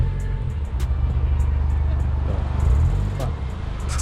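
A car pulling up at a car meet, its engine rumbling loud and close in a steady low drone while people talk over it.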